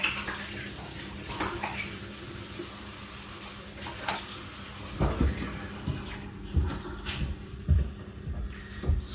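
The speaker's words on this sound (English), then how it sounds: "So I'm gonna quickly wash my hands because I don't like having sugar all over my hands." Tap water running while hands are washed at a kitchen sink, a steady hiss that breaks up into splashes and irregular rubbing thumps toward the end, close by with no talk.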